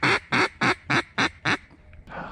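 Six loud, evenly spaced quacks from pintail ducks on a pond, close to the listener, then a pause and fainter rustling at the end.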